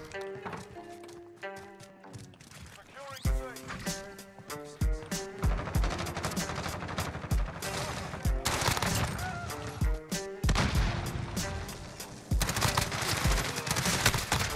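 MP5 submachine gun fire in the shooter game Modern Warfare, dense rapid bursts and shots over busy game sound and music, loud and continuous with no talk.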